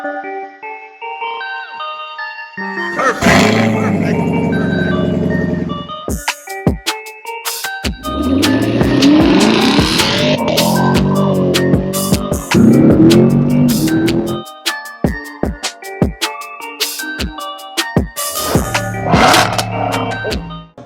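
A Chevrolet Camaro engine revving hard and repeatedly on a dyno, loud and close, with rising and falling pitch sweeps separated by brief pauses.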